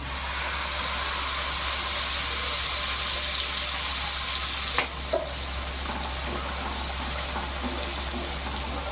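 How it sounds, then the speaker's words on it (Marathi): Egg curry gravy is poured into hot oil in a pan and fries with a steady, dense sizzle close up. Occasional small clinks and stirring sounds rise above the continuous crackle. "तेलात आपण ही ग्रेव्ही टाकून घेऊ"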